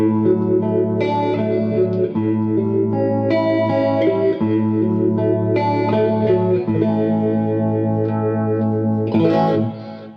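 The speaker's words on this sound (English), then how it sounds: "So now on the modulation thing here, it's kind of like a phase 90." A Blackstar Stereo V20 guitar amplifier plays with a Phase 90-style phaser modulation over reverb and delay, a sweeping, swirling distorted tone sustained loudly across chords for the whole stretch, then fading at the end.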